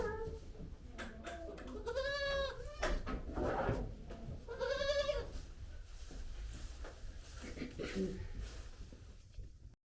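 Young goat kids bleat repeatedly in a kidding-season barn, several loud nearby cries in quick bursts, mixed with a general murmur of activity and some talk.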